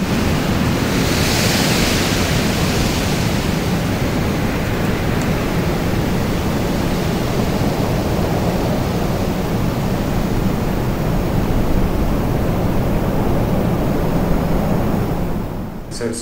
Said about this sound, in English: there's definitely a storm happening